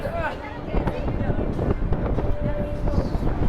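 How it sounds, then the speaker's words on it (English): Strong wind buffeting the open top of a 750-foot observation tower in San Antonio, a loud, constant roar that rumbles against the microphone while a voice talks underneath. "It is incredibly windy up here."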